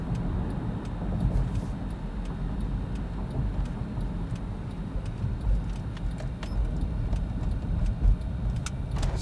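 Inside a new car driving along the road: a steady low rumble of engine and tyres, with scattered light ticks and rattles in the cabin and no talking.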